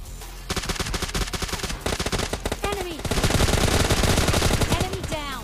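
Dense automatic gunfire in the mobile battle-royale game PUBG Mobile Lite, rapid loud bursts of shots running nearly continuously with brief gaps, close and intense, no talking.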